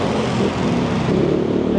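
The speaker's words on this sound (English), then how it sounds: "And bloody motorbikes are loud" Bangkok street traffic with motorbikes, a steady loud rumble of engines close by in a busy roadway, with some talking mixed in.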